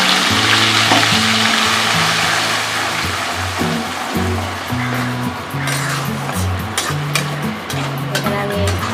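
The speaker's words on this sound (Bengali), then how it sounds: "এবার আমি পনিরটা কষিয়ে নেব। মশলা দিয়ে দিচ্ছি প্রথমে, পেঁয়াজ রসুন আদা সব বেটে রেখেছি," Ground onion, garlic and ginger masala paste sizzles and fries in hot oil in a pan for paneer biryani, a continuous close crackle with clinks and stirring scrapes over it.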